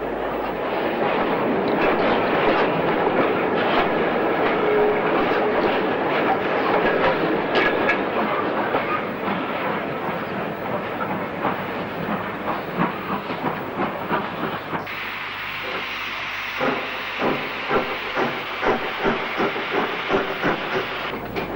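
A 1960s steam locomotive, 4951 Penderford Hall, rumbles and hisses steadily as it backs slowly into platform 3 at Oxford, with rhythmic clanking and clicking from the wheels growing more distinct toward the end.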